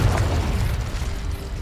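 A Confringo spell explosion in Hogwarts Legacy during a goblin camp raid: a short, heavy, rumbling boom with a crackling tail, loud and close, with no talking.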